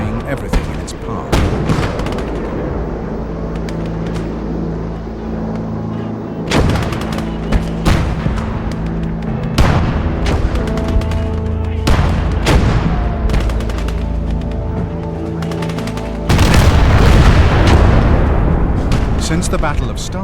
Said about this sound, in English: a Katyusha barrage would lay waste a vast area of the battlefield, destroying everything in its path